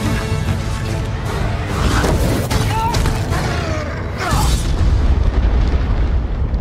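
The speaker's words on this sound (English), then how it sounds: "That, my lad, was a dragon." Deep rumbling roar of a dragon in an animated Hobbit trailer, a loud continuous low boom with swelling, rolling texture that surges again near the end.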